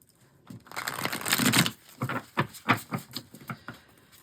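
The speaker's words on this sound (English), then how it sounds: "Let's give it one more shuffle." A tarot deck being shuffled, with a burst of riffling card flutter followed by several separate crisp slaps and taps as the cards are squared and cut, close and moderately loud with no talking.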